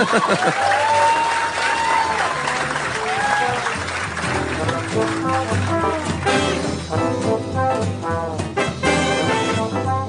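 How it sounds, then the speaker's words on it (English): A live podcast audience at the LA Podcast Festival claps steadily throughout, the applause blended with music and a few voices that grow more prominent toward the end. "you can clap if you want."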